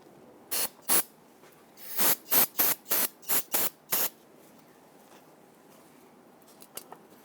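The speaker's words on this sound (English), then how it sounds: "don't forget to spray this down with some solvent" Short bursts of hissing from a solvent spray can cleaning off residual brake fluid, two quick sprays followed by a rapid run of six more, then quiet with faint clicks.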